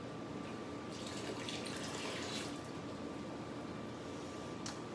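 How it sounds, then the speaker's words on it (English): Black grape wine must poured from a container back into a plastic brew bucket, a soft steady splashing trickle, quiet and close, with a few brighter splashes. "let's go ahead and pour this back into our brew bucket"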